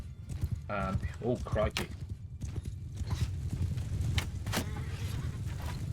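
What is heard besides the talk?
horses galloping in video game Mount and Blade Bannerlord 2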